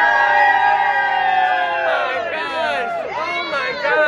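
Crowd in a cruise terminal before boarding the Norwegian Breakaway, whooping and cheering loudly in overlapping rising shouts, with a steady dense hum of voices beneath and people talking close by.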